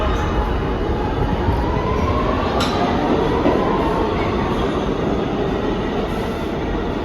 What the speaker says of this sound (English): Just missed that train.